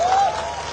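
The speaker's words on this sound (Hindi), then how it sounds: "ताली बजाओ" A brief burst of crowd clapping at a company sales rally in Haldwani, Uttarakhand, a short dense patch of applause that tails off quickly.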